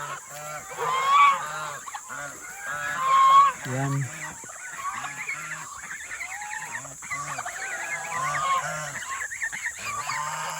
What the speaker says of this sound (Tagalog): Matatapang yung gansa.